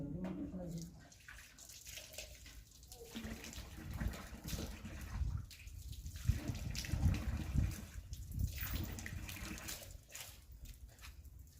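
Water splashing as someone washes their face, with irregular nearby splashes and running water across the clip, loud and continuous with some bursts.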